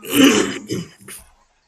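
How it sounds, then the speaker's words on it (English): A person clears their throat loudly, a rough rasp followed by two shorter grunting clears, then silence. "Look forward to a lot of just me clearing my throat"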